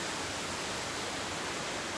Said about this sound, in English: leave this beautiful waterfall